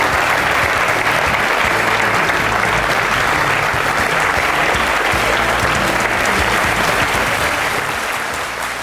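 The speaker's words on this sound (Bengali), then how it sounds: "হাততালি দিয়ে স্বাগত জানান" A studio audience at the Indian TV talk show Aap Ki Adalat applauds to welcome a guest: loud, dense, continuous clapping from a large crowd that holds steady throughout.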